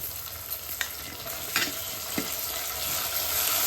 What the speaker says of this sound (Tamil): இப்போ தக்காளியும் நல்லா வதங்கணும். எண்ணெயிலேயே அது ஃப்ரை ஆகணும்